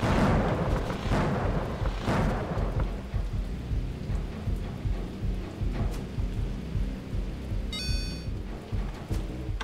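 Steady heavy rain from the video game David Get Keen hisses throughout, with low rumbles and a brief electronic chime near the end.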